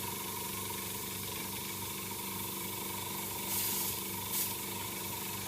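An airbrush sprays rat-rod style paint onto a model car and is starting to clog. It gives a steady, close hiss with two brief louder bursts near the end.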